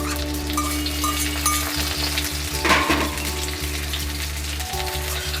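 Green chili and capsicum frying in a pan, a dense continuous sizzle with occasional stirring scrapes, close and steady throughout with no talk.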